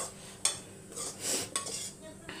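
A utensil scrapes and clinks against a pot while mixing cooked rice and egg, several sharp taps and stirring scrapes at close range, no voices.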